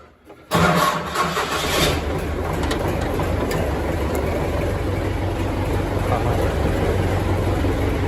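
A diesel MTZ-80 tractor engine cranks and catches, a short burst of starter noise followed by a loud, steady mid-pitched idle running close by for the rest of the stretch, with no talking.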